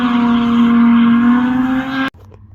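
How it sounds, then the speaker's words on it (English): A car drifting on a kart track under lights, with a loud, steady high-revving engine drone held for about two seconds before cutting off abruptly, then a faint pause. "I can't explain to you how cool it is to watch cars drifting on the kart track under the lights."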